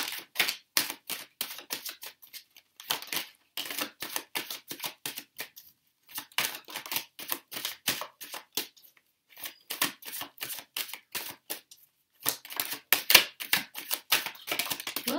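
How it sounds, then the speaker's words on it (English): Crisp papery tarot cards riffle and flick in quick bursts with short pauses between, close and fairly loud, with no talking. "let me just shuffle through some more cards"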